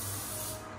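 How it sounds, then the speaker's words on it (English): Olive oil cooking spray hisses into a pan for pancakes in one short, continuous, close burst of spray. "But I use olive oil cooking spray."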